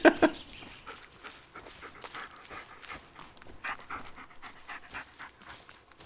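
A dog in the video game Blair Witch pants rapidly and continuously at close range, with a couple of louder huffs at the start.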